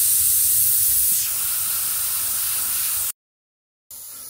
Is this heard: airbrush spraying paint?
yes